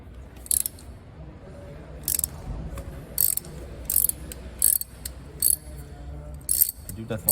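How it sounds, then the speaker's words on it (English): A ratchet wrench works a bolt loose from a common-rail diesel injector on a Peugeot engine, short bursts of crisp clicking repeated about eight times with pauses between strokes, close up. "I need to remove this bolt to be able to remove the whole injector"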